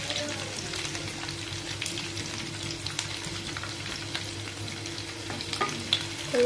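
Onions sizzle and fry in a pan with cumin and mustard seeds while semiya upma is made for breakfast, a steady close crackle with occasional stirring and no talk.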